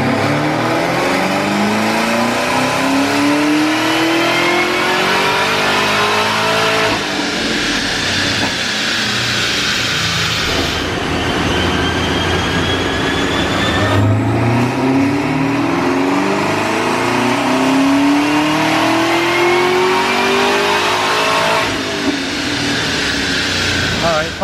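A Camaro ZL1 1LE engine revs hard on a chassis dyno, rising through repeated loud wide-open pulls with gear-like sweeps and a steady roaring drone throughout.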